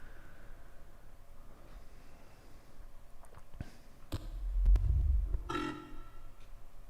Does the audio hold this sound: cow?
no